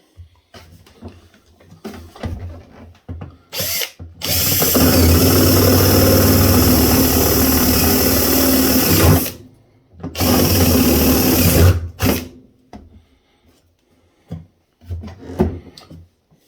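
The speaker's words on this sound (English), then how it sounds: "I'll drill one more size bigger." A power drill whines loudly in two sustained bursts with a short gap between them, with clunks and handling knocks before and after.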